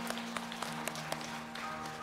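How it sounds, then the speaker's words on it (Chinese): A congregation claps hands during a Sunday church service. The claps come as a thin scattering of distinct strikes in a loose rhythm over a steady hum, fairly faint and distant. "我们拍手感谢主"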